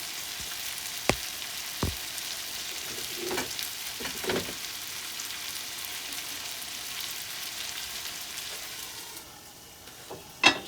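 Kappa biryani masala frying with beef and tapioca in a pan: a soft continuous sizzle runs throughout, with a few distinct knocks and scrapes of a spoon stirring, then the sizzle fades briefly before a final clatter.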